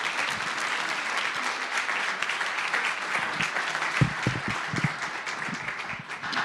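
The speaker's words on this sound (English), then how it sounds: "let's a round of applause for our panelists" An audience at a university symposium applauds the panelists with sustained, full clapping from many hands, a few louder thumps near the end.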